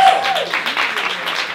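Audience applause at a live interview event, a steady wash of clapping from a room crowd rising right after a guest is welcomed, lasting the whole short stretch with a faint voice underneath.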